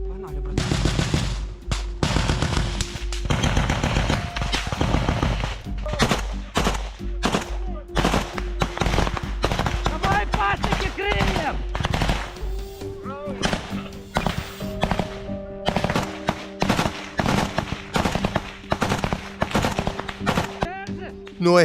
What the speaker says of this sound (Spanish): De repente hay disparos y violencia en medio del bosque.